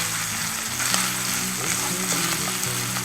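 Sausage browning in a frying pan for a quiche, a continuous close sizzle and crackle of fat with faint scraping as it is stirred, steady throughout with no talk.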